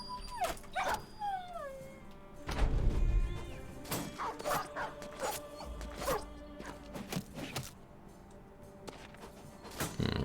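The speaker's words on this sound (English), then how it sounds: "It appears at least half of them are freaking dogs." Dogs in the Battle Brothers combat game bark, yip and whimper in scattered bursts, mixed with clattering impacts and rustling effects over a quiet battle backdrop.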